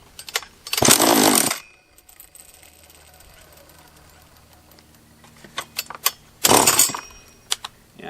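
A refurbished Husqvarna 44 chainsaw with a suspected lower-end vacuum leak runs poorly, giving two loud, rough bursts of engine noise separated by a quieter stretch of mechanical rattling and faint handling sounds.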